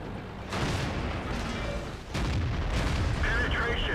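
Tank cannon fire in World of Tanks from an ARL V39 tier 6 tank destroyer: loud, booming in-game shots and rumbling battle noise that fill the whole clip, with one sharp blast near the middle, while someone talks over it.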